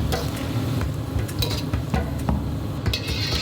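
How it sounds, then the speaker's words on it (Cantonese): Spices, coriander, scallions, ginger and garlic fry over low heat in oil near 200 degrees. They give a dense, continuous, crackling sizzle, broken by light utensil clinks and stirring scrapes close by. "將啲香料同埋芫茜葱倒晒落去， 開細火， 炸到啲薑葱蒜變黃為止"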